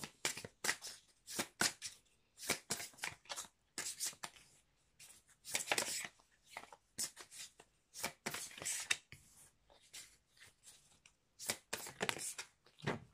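A deck of oracle cards is shuffled by hand close up in a quiet room, giving repeated soft riffling bursts in an irregular rhythm with short pauses between.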